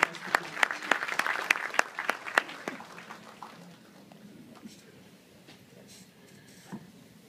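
Audience at an Urdu event claps to welcome Smriti Irani, a burst of sharp, separate claps that quickly thins out into scattered faint claps, with quiet murmuring in the background.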